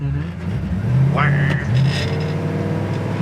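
A 1966 Chevelle with a 283 V8 revs up and accelerates from second gear nearby, its pitch climbing through a gear, with voices talking over it.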